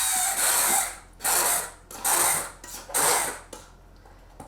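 Hand blender pulsing cooked peas into a purée in a pan, four short bursts of whirring motor with brief pauses between, close and fairly loud, no talking.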